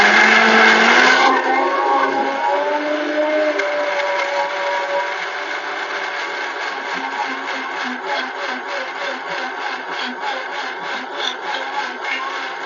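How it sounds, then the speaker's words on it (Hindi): Kitchen mixer grinder whirring as it blends aloe vera into a thin paste, a loud high-pitched motor run that starts sharply and settles into a steady, slightly pulsing grind with no talking. "अब ये मिक्सी मैंने लगा दी है।"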